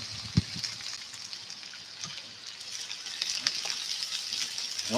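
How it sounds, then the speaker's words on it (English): Onion sizzles and fries in a pan over an outdoor cooking fire, a continuous crackling hiss with small pops, steady and close. "In goes the onion."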